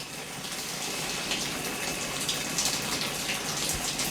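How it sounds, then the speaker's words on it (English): Water running inside an ice machine, a steady loud rushing gush with continuous splashy hiss throughout. "It sounds like the water."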